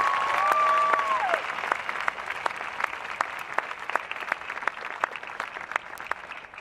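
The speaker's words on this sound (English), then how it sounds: "Let's clap that up. Clap it up. Clap it up." Scattered, thin clapping rises from an outdoor crowd at a protest open-mic gathering, with sharp individual claps standing out over a quieter background, after a brief tone near the start.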